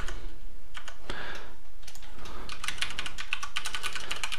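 Quick keystrokes on a computer keyboard while an email address is entered during web server setup, a close, crisp run of clicks in uneven bursts that grows denser toward the end, with no talking.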